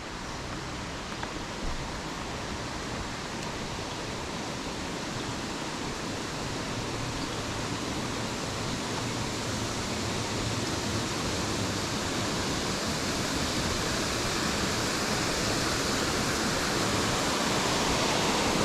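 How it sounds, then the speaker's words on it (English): A small waterfall on a creek beside a meadow loop trail at a nature preserve in Frankfort, Kentucky, giving a steady dense rushing roar that continues unbroken and grows slightly louder toward the end, with no speech. "Nice little waterfall."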